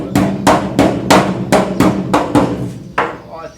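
A hammer taps a Ford Escort RS2000 Mk2 metal body panel, about nine sharp evenly spaced blows, close and loud, the last slightly delayed.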